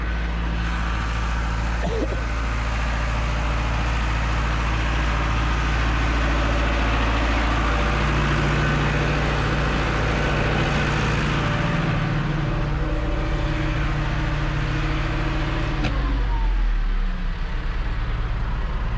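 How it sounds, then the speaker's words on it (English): Heavy tractor engines idle with a deep, steady rumble close by in a barn, a low continuous drone that dips and shifts slightly near the end as turbos spin down. "I'll just turn these tractors off a minute."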